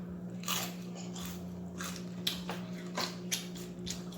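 Close, crisp crunches of fried chicken and fries being bitten and chewed, several bursts in an irregular rhythm over a low steady hum, no speech.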